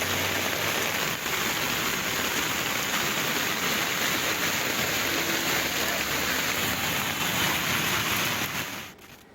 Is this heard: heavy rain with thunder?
yes